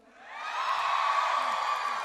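A studio audience at a Filipino TV game show cheers and shouts, swelling quickly into a sustained wash of crowd voices.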